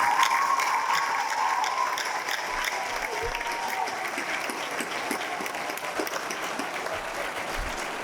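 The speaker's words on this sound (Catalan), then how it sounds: "Comencem celebrant-ho una altra vegada amb un fort aplaudiment per tots els que acabeu batxillerat i cicles formatius." Loud, sustained applause from a large audience at a high school baccalaureate and vocational program graduation ceremony, dense steady clapping filling the whole stretch without pause.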